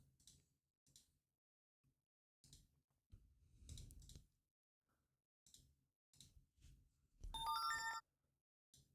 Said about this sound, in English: here, I'm gonna be quiet so I can see if the notification comes through